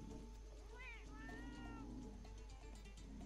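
Cats in the video game Monster Hunter World Iceborne let out a couple of short meows over a busy, faint game soundscape.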